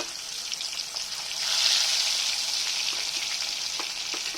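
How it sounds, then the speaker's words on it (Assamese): Fish pieces rubbed with salt and turmeric fry in hot oil, giving a steady, close sizzle that swells briefly partway through, with a few faint crackles and no talking. "মাছখিনি ধুই নিমখ হালধি সানি ফ্ৰাই কৰি ল'ম।"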